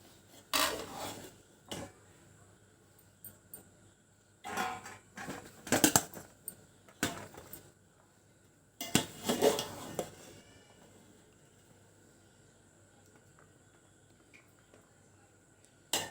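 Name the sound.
serving biryani from a pot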